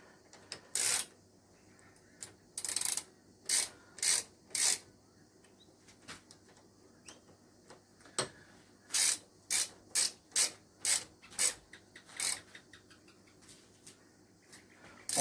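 Ratchet tightening a Barkbusters handguard bracket on a Gen 3 KLR 650 motorcycle, heard as close, crisp bursts of rapid clicking in two clusters with short pauses between them, no talking.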